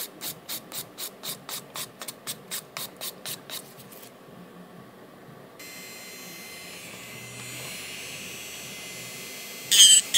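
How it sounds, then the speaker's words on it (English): An electric nail file shaping and buffing an acrylic nail: a quick run of about a dozen short rhythmic rasping strokes, then a steady, quieter whirring drone with a brief louder burst near the end, close and clear with no talk. "the only thing I am going to be doing now is to file and buff the nail in shape"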